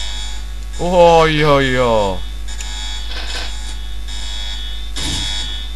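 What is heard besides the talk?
alarm going off in video game Postal 2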